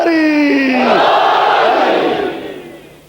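A large gathering at a Muharram majlis shouts a loud, unified religious slogan, starting with a sustained leading call and breaking into a massed roar of voices that swells, then gradually fades.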